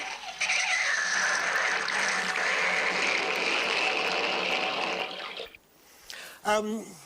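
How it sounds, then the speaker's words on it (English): Bath water gurgles and rushes steadily down the plughole for several seconds, then trails off into a few short slurps and sucking gulps as it finishes draining. "Why does the water in my bath always go down the plug hole in the same way?"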